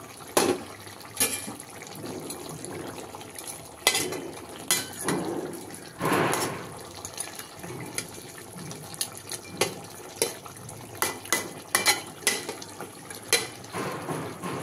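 Fish dropped into a pan of simmering brinjal curry, a few soft splashes and wet bubbling with light clinks of pots amid steady kitchen noise, no talking.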